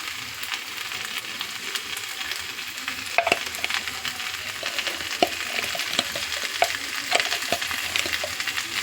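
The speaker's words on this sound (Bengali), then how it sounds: "এবার আমি এক চামচ ঘি দিয়ে দিচ্ছি" Ghee sizzles and crackles steadily in a pan of banana flower ghonto with coconut, a dense close-up hiss with scattered sharp pops and light stirring scrapes; no voices.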